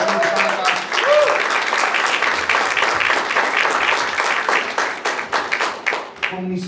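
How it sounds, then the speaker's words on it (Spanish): A church congregation breaks into sustained applause, dense clapping with brief voices mixed in, tapering into scattered claps near the end. "Dale un fuerte aplauso a ellos, por favor."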